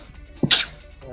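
One sharp, brief human sneeze bursts out, close and loud, over quiet background sounds during a GTA 5 Online heist game session.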